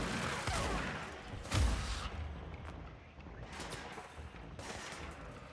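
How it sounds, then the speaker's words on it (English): Gunshots ring out in the video game Control in scattered, fairly faint volleys over a rumbling game ambience, with one heavier thump early on. "Somebody's shooting at me."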